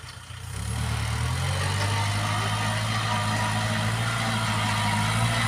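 A farm tractor engine starts up and settles into a steady, low chugging idle, close and constant with no talk.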